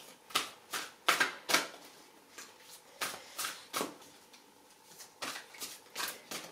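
Tarot cards are shuffled and drawn, giving a series of short, crisp papery flicks and snaps at a quiet, close level with no talking.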